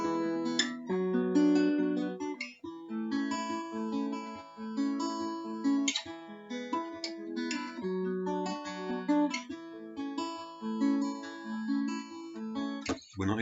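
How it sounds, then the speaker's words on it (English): A guitar plays a repeating riff as a demonstration of one part from a multi-guitar pop song, steady and prominent with rhythmic chordal and melodic figures throughout, no talking. "So we've got one guitar is doing something that sounds like this."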